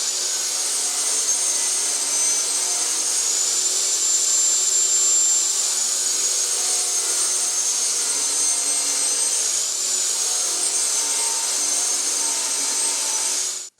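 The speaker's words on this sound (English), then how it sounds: "I'm going to have to cut 3 maple strips that are 2 3/8 of an inch" Power saw ripping maple strips, a loud, steady high-pitched whine with a constant howl throughout and little change in pitch, cutting off abruptly at the end.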